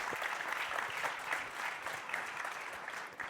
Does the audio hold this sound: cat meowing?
no